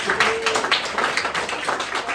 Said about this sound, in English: That deserves a round of applause, I think.